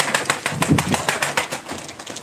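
Pigeons at a Turkish tumbler pigeon auction coo and shuffle close by, with rapid, repeated wing flutters and soft throaty calls in a busy, steady stream while a voice talks over them.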